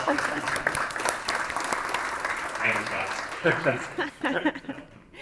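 A conference audience claps in a round of applause, steady and moderate, with some chatter and a few voices rising toward the end.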